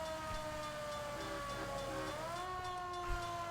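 Police car siren in the video game L.A. Noire, a steady loud wailing tone that holds level, then rises in pitch partway through, sounding continuously over engine rumble with no talk.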